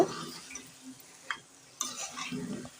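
Chicken curry stirred in a pan, heard as faint, intermittent scraping and soft clinks of a utensil over a low sizzle, with a couple of sharper strokes standing out against the quiet background.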